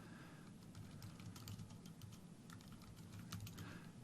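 Soft, rapid clatter of typing on a computer keyboard, irregular light key taps in quick runs, close but faint against a low background hum.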